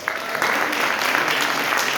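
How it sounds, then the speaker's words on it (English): Roomful of people applauding, thick continuous clapping that stays loud and even through two seconds, no talk on top. "Give them a round of applause"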